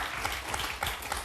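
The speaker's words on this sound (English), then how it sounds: "9, 10 people clapped in the audience." A small audience claps with a thin, tepid scattering of hands through a television studio discussion, steady and moderately loud for about a second.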